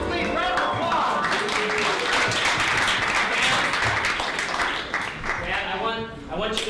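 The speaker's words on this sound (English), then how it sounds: "please, round of applause" A theater audience at an improv show gives a dense, steady round of applause that fills the room for several seconds before tapering, with voices mixed in.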